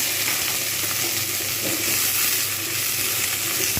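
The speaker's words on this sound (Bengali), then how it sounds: "অলরেডি সর্ষেটা ভাজা শুরু হয়ে গেছে এবারে এটা আমি আমটা দিয়ে দিলাম" Loud, dense sizzling as mango is added to mustard seeds frying in hot oil, continuous and close, with no voices.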